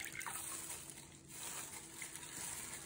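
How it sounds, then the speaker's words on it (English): A tie-dye T-shirt is wrung out over a bucket of water, releasing soft trickling and splashing water that runs fairly steadily with a brief lull partway through, close and moderately quiet. "and just wring the extra dye out,"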